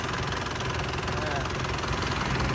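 An Isuzu Mangkorn Thong 87 hp single-cab truck with power steering runs with a steady, rough engine rumble and knock while someone talks over it.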